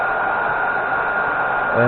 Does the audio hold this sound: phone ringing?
no